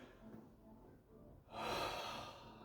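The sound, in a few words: demonstration of shallow upper chest breathing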